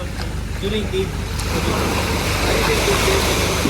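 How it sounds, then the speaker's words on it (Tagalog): Strong ocean waves churn steadily at sea around the Hundred Islands National Park in Alaminos, Pangasinan, a broad continuous wash of water noise with a faint boat engine hum and a brief voice underneath. "Malakas ang alon dito, no?"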